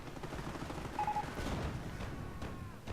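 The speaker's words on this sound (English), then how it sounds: "Explosion looks cool at least" An explosion in a war video game set in an urban area near a church, a burst of rumbling blasts and crackling fire within a steady noisy battle background, moderately loud.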